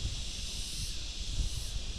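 Wind rushes steadily through foliage, a broad continuous hiss with faint low rumbles.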